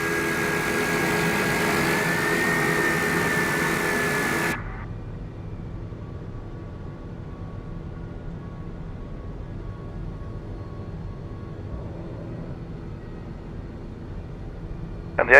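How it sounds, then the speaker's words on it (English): A TBM 850 turboprop engine in a flight simulator starts badly: a loud, steady roar holds for about four and a half seconds, then cuts off abruptly to a low, quiet hum, with a faint click at the very end. No one speaks. "And the engine's making a scary sound as well."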